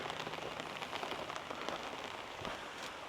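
Steady rain patters onto a surface at a campsite where a tent is not yet pitched, a dense, even hiss with scattered drop taps, fairly quiet and continuous with no voices.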